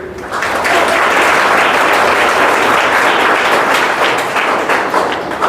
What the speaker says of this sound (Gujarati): તો આપણે સૌ તેમનું તાળીઓથી સ્વાગત કરીએ